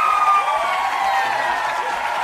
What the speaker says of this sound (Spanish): Fuerte las palmas ahí para Teobaldo.